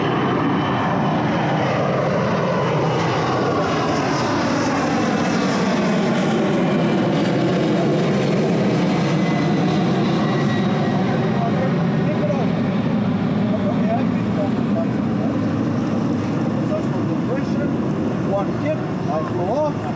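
A kick-started Soviet Russian motorbike engine runs continuously, a loud, close, buzzing drone that wavers slightly in pitch throughout.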